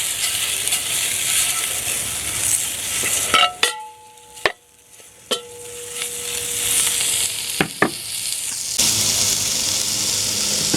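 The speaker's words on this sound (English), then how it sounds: "Here and sizzle. That's what you want. Sizzle, sizzle." Bacon sizzles and crackles steadily in a hot skillet, broken midway by a few sharp clicks and clatters before the loud hiss returns.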